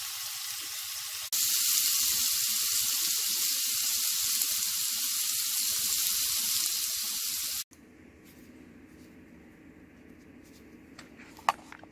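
A steak sizzles loudly and steadily in a pan for several seconds, a bright constant hiss, then cuts abruptly to quieter room sounds with a brief clink near the end.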